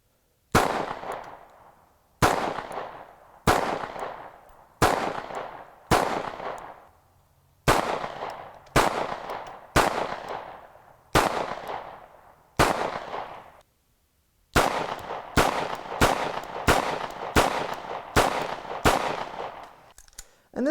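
A Star Model BM pistol firing about fifteen loud, sharp gunshots with echoing decay, first spaced steadily, then a pause, then a faster string of shots.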